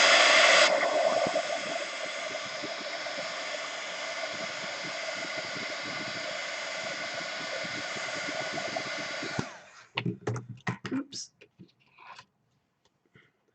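A hair dryer blows steadily and loudly for about nine seconds to dry watercolor paint, then cuts off, leaving a few scattered desk clatters and brief handling noises.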